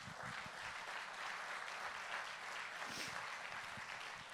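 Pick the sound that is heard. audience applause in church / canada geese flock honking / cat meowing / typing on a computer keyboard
audience applause in church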